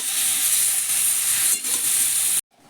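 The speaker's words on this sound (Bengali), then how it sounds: "হলুদ গুঁড়ো দিয়ে টমেটোটাকে ভালো করে আমি নেড়ে ছেড়ে নেবো" Tomatoes with salt and turmeric powder sizzle loudly in a frying pan as they are stirred, a steady close hiss that cuts off abruptly near the end before a quieter hiss returns.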